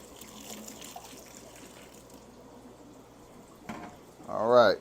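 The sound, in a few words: pouring water into plant substrate mix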